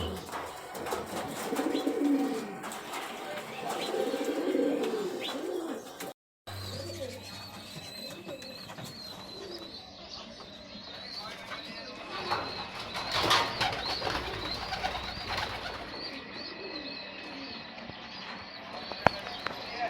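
Giribaj pigeons, a colour-matched set, coo softly and repeatedly at close range, with brief wing flaps and rustling throughout and a short cut partway through.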